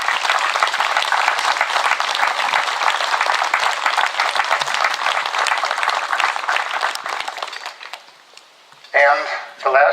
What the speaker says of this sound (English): I would like to hear a nice round of applause.